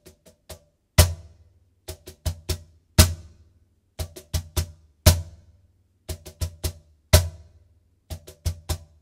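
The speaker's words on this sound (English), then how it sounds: "This one has a triplet stroke roll on beats 1 and 2 of the bar." Hand strokes on a cajon played alone in a bachata groove, with quick triplet stroke rolls recurring about once every two seconds, each roll landing on a stronger slap, near and fairly loud.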